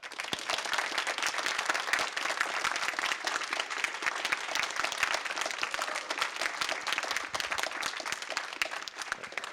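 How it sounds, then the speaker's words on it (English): A student union officer election debate audience in Sheffield gives steady, sustained applause for the presidential candidates. The clapping stays dense and even from start to finish, with no talking. "if we could have a nice, healthy, generous round of applause, obviously for our president candidates"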